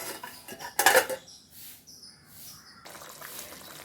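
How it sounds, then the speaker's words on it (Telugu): A lid clatters down onto a metal cooking pot of simmering sundakkaya pulusu, one sharp close clank followed by quieter scraping and clinks in a small kitchen. "ఇప్పుడు మూత పెట్టేద్దాం"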